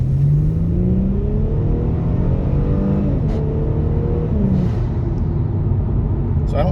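A 2019 Kia Stinger GT2 fitted with Injen intakes accelerating on a main road, heard from inside the cabin as a steady engine drone rising in pitch through several gear shifts.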